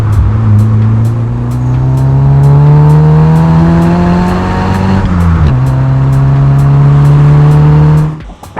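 A Vauxhall Nova GSI with its standard engine pulls steadily while driving, a loud, continuous drone that climbs in pitch, dips briefly at a gear change, then holds steady before fading out at the end.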